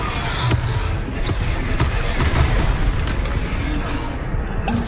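A spell being cast in Hogwarts Legacy, a dense run of magical booms and impacts over a steady wash of game noise, with brief bursts recurring through the stretch.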